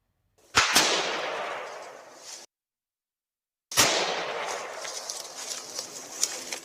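A SWAT marksman fires a rifle shot, a sharp close crack followed by a long echoing decay, then a second loud report with a rolling tail.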